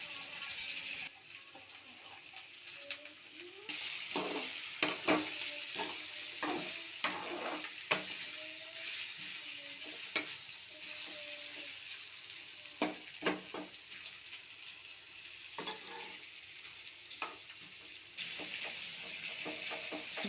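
Bitter gourd pieces fry in hot oil, giving a steady hiss, while a utensil stirs them with occasional sharp scrapes and knocks against the pan.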